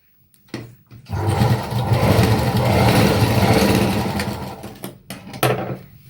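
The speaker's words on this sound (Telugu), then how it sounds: "ఫస్ట్ ఎలాస్టిక్ అలాగే క్యాన్వాస్ని ఒకదానికొకటి జాయిన్ చేసుకుందాం. ఈ విధంగా స్టిచ్ వేసుకుందామండి" A sewing machine runs steadily for about four seconds, stitching elastic and canvas together for a child's two-layer lehenga, with brief handling clicks before and after the run.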